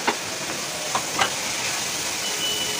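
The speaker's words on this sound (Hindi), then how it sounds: "इसको भी थोड़ा देर भून लेंगे।" Onion and green chillies fry in a hot pan over a fast flame, giving a steady soft sizzle with a few faint clinks of stirring.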